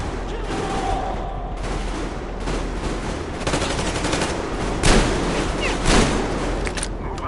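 Covering gunfire rattles through a Metro Exodus battle, with dense machine-gun bursts and sharp shots over a continuous din and a few louder blasts near the end.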